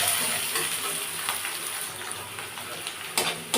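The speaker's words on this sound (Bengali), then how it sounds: "পেঁয়াজটাকে একটু লাল লাল করে ভেজে নেব।" Onions frying in oil in a pan until reddish, a moderate continuous sizzle with scattered crackles and a few sharper clinks or splashes toward the end, no voices.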